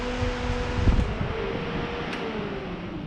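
Electric cooling fans on a Ford XG ute run with a steady whooshing hum close by, accompanied by a brief clunk of handling noise near the start.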